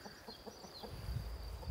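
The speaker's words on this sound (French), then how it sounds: "la poule glousse c'était celle-là, c'est celle à droite" A nervous broody hen clucks in a short run of soft, evenly spaced calls, close by, over low rumbling background noise with no talk.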